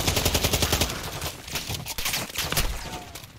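Rapid automatic gunfire rattles in Call of Duty: Modern Warfare II, loud bursts of shots in quick rhythm that briefly ease before resuming.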